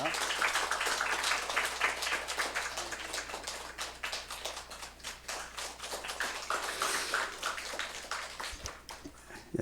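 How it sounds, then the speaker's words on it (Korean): A church congregation applauds steadily during a Sunday morning service, dense clapping filling the room for several seconds, fairly loud and continuous. "우리 박수로 축복하겠습니다"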